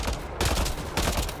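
Gunfire in the Mass Effect Andromeda video game: two dense, loud bursts of rapid shots, the first lasting about half a second and the second about a second, with no talking.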